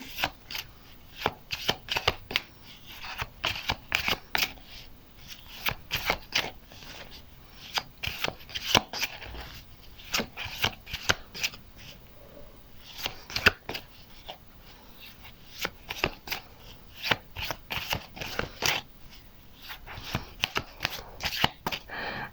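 Venus-themed tarot cards shuffled steadily by hand, close and crisp, a long stream of rapid riffling clicks and swishes that goes on without a break, with no voice over them.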